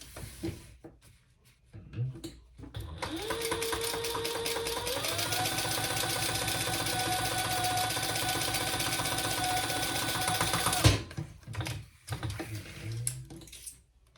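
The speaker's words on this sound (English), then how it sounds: "we'll just turn that down and top stitch" A sewing machine top stitches a crossbody bag, its motor whirring in one steady run of about eight seconds, framed by faint handling clicks before and after.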